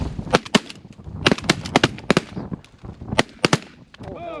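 Shotguns boom in a rapid, loud volley during a snow goose hunt in North Dakota, with many overlapping close blasts in uneven bursts. Hunters' voices can be heard between the shots.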